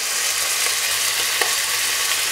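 Beef searing in a hot pot for Bockbier goulash, a loud, dense, continuous sizzle and crackle of frying meat with no talking.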